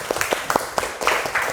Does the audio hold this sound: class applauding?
yes